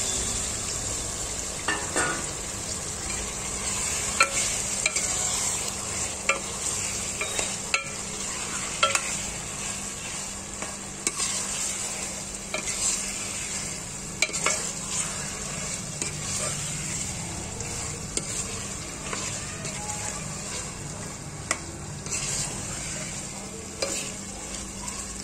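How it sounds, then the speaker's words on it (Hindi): Chicken sizzles and fries in a pan for chicken salan while being stirred, a steady crackling hiss broken by frequent scraping and clinking of the spoon against the pan. "हम इसे 2-3 मिनट अच्छा भूनने देंगे"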